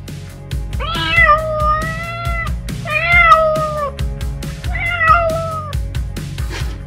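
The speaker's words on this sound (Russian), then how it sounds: "А кто спасет котенка?" A kitten meows three times, close and clear, each call drawn out and rising then falling, with short pauses between them.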